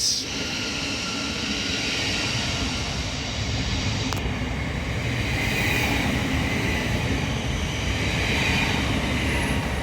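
An LNER Lumo train idles or runs at Hitchin station on the East Coast Main Line, a steady loud rumble and hum throughout with a brief sharp click near the middle and no other sound.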